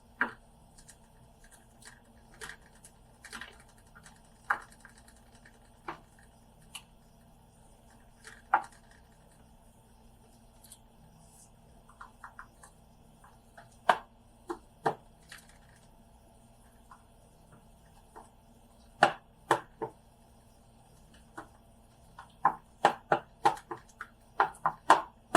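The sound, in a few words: poking holes in sourdough cracker dough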